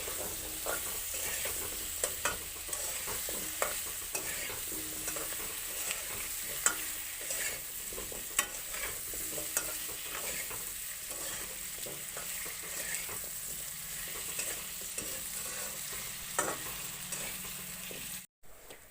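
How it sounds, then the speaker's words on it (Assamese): Pieces of taro fry in a pan under repeated stirring: a continuous hissing sizzle punctuated by regular scraping clicks of the spoon, ending with a brief cut-out just before the close. "এতিয়া কচুখিনি দি দিম। ভালদৰে আকৌ এবাৰ লৰাই দিম।"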